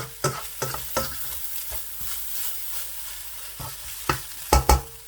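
Vermicelli roasts in desi ghee with a gentle sizzle, cut by sharp, irregular scrapes and knocks of a spoon stirring against the pan. Two heavier clanks come near the end, with no talk.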